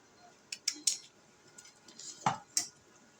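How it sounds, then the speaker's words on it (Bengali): Insulation pieces being cut with scissors to fit a ceiling fan coil, a handful of sharp close snips and clicks spaced irregularly over quiet background. "এখন আমার এই কয়েলের মাপ অনুযায়ী আমি প্রত্যেকটাকে এভাবে কেটে নেব"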